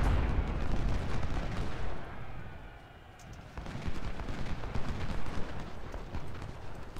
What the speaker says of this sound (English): I gotta take care of those cannons